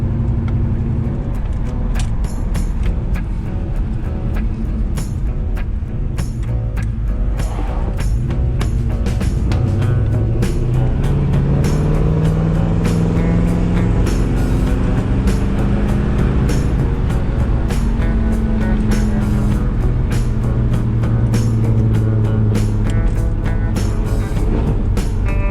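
A restored 1955 Chevy Bel Air drives along the road, its loud engine droning steadily up close with rising and falling pitch as it shifts and accelerates, plus occasional clicks and bumps throughout.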